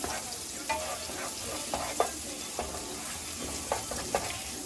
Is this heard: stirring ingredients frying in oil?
yes